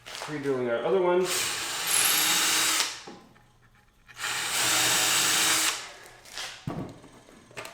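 A power drill bores pilot holes into wood for a bow hanger, two long, loud, close whining bursts separated by a short pause, with someone talking at the start and a brief clunk near the end.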